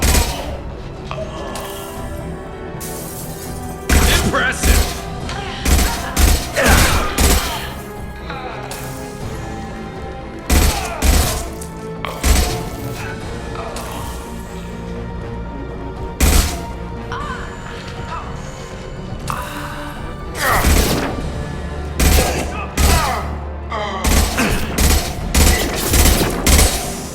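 Rifle gunfire in the video game Mass Effect 2, loud repeated bursts and single shots with impacts and crashes, spread across a busy combat scene with scattered breaks between volleys.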